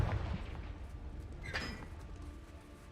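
Confringo fire spell cast in the Hogwarts Legacy video game, a deep booming blast with a crackling burst of fire amid dense game ambience, close and fairly loud, fading into a low rumble.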